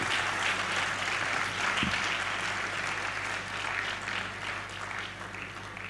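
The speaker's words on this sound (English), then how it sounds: "Another round of applause for our dear Deputy Chancellor of the Igbinedion University, Okada." An audience at a university event in Okada applauds steadily and fairly loudly, a dense wash of many hands clapping that fades slightly toward the end.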